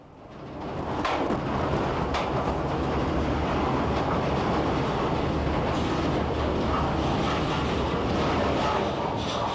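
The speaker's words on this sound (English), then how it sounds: "the locomotive brings the empties through the yard and out to the bog for another load" A locomotive on an Irish peat bog railway hauls a rake of empty wagons through the yard, a steady loud rumble and clatter of wheels on rail that swells in and holds throughout.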